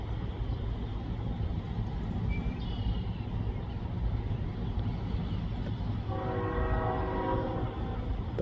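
A freight train rumbling past continuously at close range in LaSalle, with a loud, sustained multi-tone horn sounding near the end over the rolling wheel noise.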